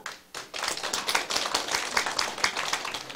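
Hands clap in a quick, bright, fairly close run after one short opening clap, at a Taiwanese political lecture session.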